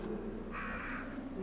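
A crow caws once at moderate distance in the Resident Evil 2 PlayStation game, a short harsh call over a low ambient background hum.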